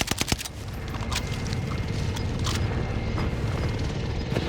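Rapid bursts of automatic gunfire in Call of Duty, with a few sharp shots up front and then dense, sustained firing and booms filling the clip.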